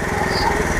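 A small power weeder engine revved with the accelerator, a close, loud, buzzing high-pitched motor drone with rapid firing pulses over a very short moment.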